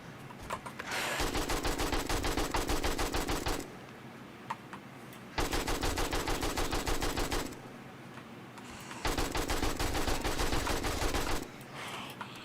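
Automatic gunfire in the survival video game 7 Days to Die comes in three long, dense rattling bursts of several seconds each, separated by quieter pauses, loud and close with no talking.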